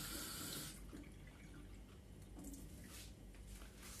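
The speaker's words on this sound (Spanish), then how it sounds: "Y echamos agua." Water runs from a tap into a container, a steady splashing stream that is loudest at the start and then continues more softly, with no talk over it.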